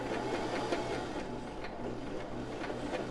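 A sewing machine runs smoothly and quietly with the presser foot lowered, giving a steady, even whir with a soft rhythmic ticking throughout and no voices.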